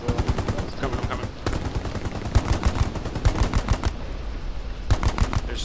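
Rapid bursts of automatic gunfire and scattered shots from the WWII shooter Hell Let Loose, loud and close, clattering in dense volleys with brief pauses between them.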